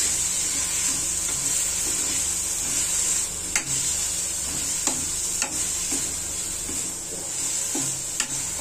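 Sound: stirring full cream milk with coconut in a kadai

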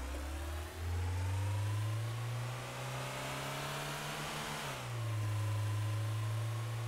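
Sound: car driving in Trader Life Simulator video game

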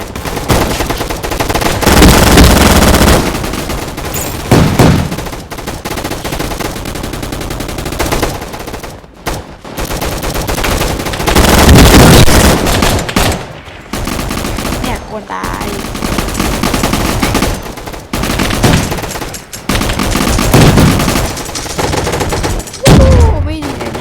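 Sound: gunfire in a Roblox video game

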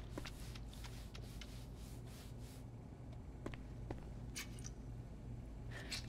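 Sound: scrubbing a table in video game Crime Scene Cleaner

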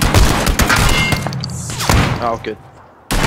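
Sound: gunfire from sniper in a video game

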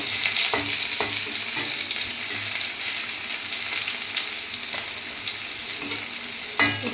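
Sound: chopped onions with bay leaf frying, stirred

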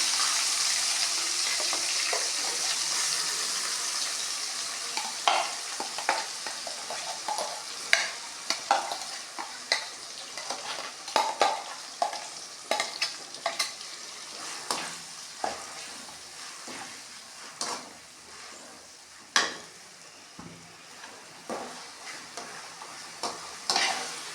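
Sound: dried fish masala sautéing in oil

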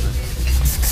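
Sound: polishing rust off motorcycle clutch parts

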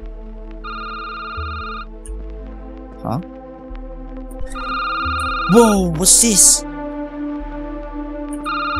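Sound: telephone ringing in a horror video game

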